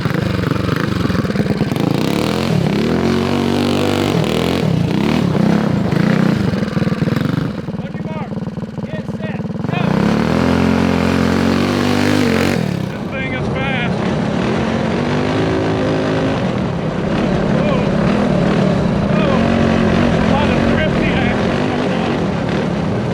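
A 25 hp big-valve yard kart engine roaring at high revs, rising and falling loudly over about twenty seconds with brief dips as the throttle lets off, while people talk throughout.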